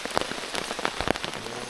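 Heavy rain pours in a deep forest at night, a dense steady hiss with scattered close drops pattering on surfaces, continuous and loud with no voices.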